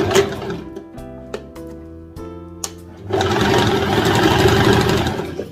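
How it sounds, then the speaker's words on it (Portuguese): Sewing machine stitching a gathered skirt onto a dress bodice, starting with a few slow separate stitches, then running into a steady fast whir, close and clear. "Então agora eu vou estar costurando a saia na blusa."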